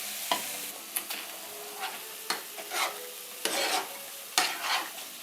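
Shrimp and chopped garlic being stirred and turned in a pan over medium heat for shrimp and grits, with a quiet steady sizzle under about seven sharp scraping strokes spaced roughly a second apart, near and without talk.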